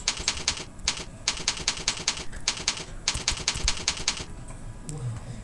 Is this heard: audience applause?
no